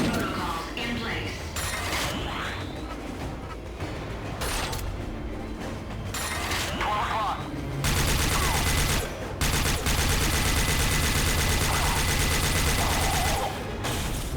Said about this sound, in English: the pulse cannon absolutely shreds these heavy guys